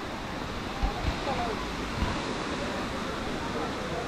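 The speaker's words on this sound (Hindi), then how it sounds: "तो यहाँ पे एक्चुअली वाटर फ्लो बहुत सही है ना" Water from Abbey Falls near Madikeri flows and rushes along a stream, a steady close roar with a few soft knocks and faint voices beneath it.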